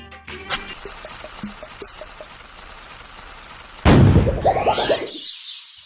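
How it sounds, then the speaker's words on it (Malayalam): A small firecracker goes off with one sudden, loud bang partway through, after a stretch of quieter background sounds, and is followed by a short ringing, echoing tail. "ആരാ പൊട്ടാസ് പൊട്ടിച്ചേ?"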